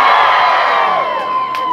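Crowd shouting at a Workers' Party campaign rally in the São Pedro neighborhood of Tabira, Pernambuco, a loud dense roar of many voices holding steady before tapering slightly.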